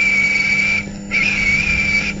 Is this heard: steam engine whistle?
yes